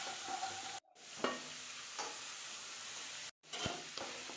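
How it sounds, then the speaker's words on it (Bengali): Spiced masala frying and sizzling in a pan with a little water added, a steady hiss with scraping stirs, briefly cut by two short gaps. "তো জল দিয়ে আমি কষাচ্ছি।"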